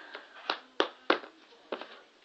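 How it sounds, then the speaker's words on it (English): Cup song rhythm played with claps and taps on a cup, a handful of sharp, fairly quiet hits in a quick irregular pattern, heard alone without voices. "So this is how you do it, right? Go clap, clap, tap, tap, tap."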